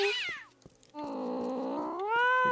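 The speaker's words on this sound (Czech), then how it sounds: "Jak si přijde spokojeně kočička." Cat meowing in the video game Postal 2: two close, clear meows, a short rising-falling cry and then a longer drawn-out wail, with no talk.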